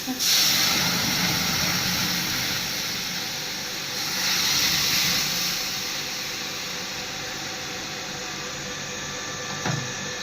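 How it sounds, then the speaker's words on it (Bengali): Lentil dal poured into a hot pan sets off a loud burst of broadband hissing that holds steady, swells again midway, then settles into a softer, continuous sizzle. "এরপর ডালটাকে ঢেলে দিচ্ছি।"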